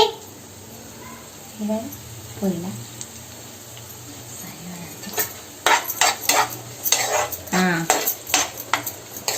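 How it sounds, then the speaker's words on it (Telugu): Potato-and-pea samosas fry in hot oil, a soft bubbling sizzle under a voice, followed by louder metal clatter of a utensil against the pan. "మంచిగా ఫ్రై అవుతుంది"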